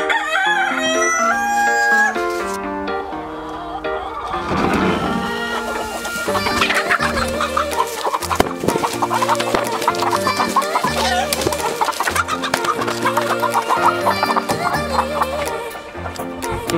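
A rooster and laying hens in a coop, with a loud close crow followed by a busy mix of clucking and squawking from several birds, and someone speaking briefly.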